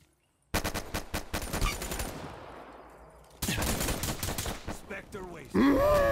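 Rapid bursts of close-range gunfire, including shotgun blasts, crack out from a Black Ops 3 multiplayer match in dense, overlapping volleys, with a short lull between barrages and a whooshing game effect at the end.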